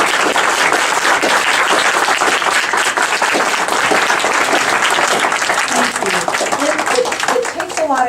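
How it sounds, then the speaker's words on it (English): Audience at a League of Women Voters aldermanic candidates forum applauding the candidates, dense, loud clapping filling the room continuously with a few voices mixed in toward the end. "Please stand. Let's have some applause."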